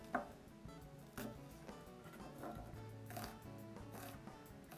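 Knife cutting straight into an onion toward the root on a board, for lasagna sausage: a steady run of soft, close crunchy slicing strokes repeating about once a second, with no talk.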